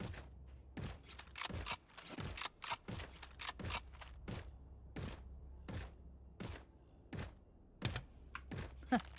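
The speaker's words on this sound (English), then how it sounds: "I was typing." Fast, uneven typing on a computer keyboard during a Valorant esports match, with crisp key clacks and heavier thuds close to the mic, carrying on alone without speech.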